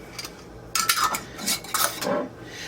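Metal canning lids and bands clink and scrape against glass jars as they are set on and turned finger tight, in a few quick, close, bright rattles, with no voices.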